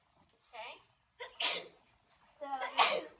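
A single sharp sneeze bursts out near the microphone during a classroom maths lesson, followed by brief further talk from a teacher.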